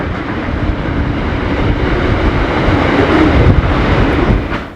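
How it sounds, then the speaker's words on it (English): A freight train rolls through on standard gauge track, a steady close rumble with faint rail clatter building slightly as it passes. "the freight train on the left goes straight through"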